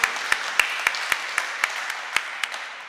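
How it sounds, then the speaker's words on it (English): Scattered hand claps from a seminar audience at a valedictory session, about a dozen sharp, evenly spaced claps over a few seconds, close and fairly loud with no talk. "No harm in clapping."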